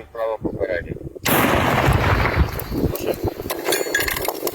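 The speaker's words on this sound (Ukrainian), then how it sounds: "Постріл!" A loud artillery blast erupts after a brief voice shouting a firing command in Ukrainian, followed by a long rumbling roar and debris-like rattling that fills the rest of the moment.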